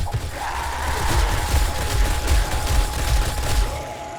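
Gunfire in 7 Days to Die as turrets and guns shoot at a Behemoth, a dense rapid fusillade of shots with heavy low thuds throughout.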